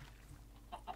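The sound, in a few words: chicken clucking in video game Minecraft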